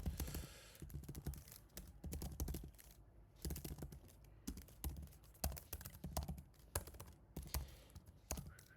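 Computer keyboard typing in irregular bursts of close, crisp key clicks with brief pauses between words, entering place names one at a time; no talking.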